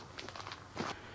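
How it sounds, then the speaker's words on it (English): Footsteps crunch on cemetery gravel, a few faint, quick steps in a quiet night setting, with no talking. "Come and walk on the gravel for us again."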